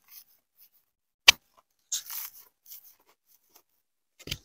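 A dry moss pole gives a single sharp crunch near the start, followed by a few softer rustling crackles and another brief crunch at the end, close and quiet against near silence.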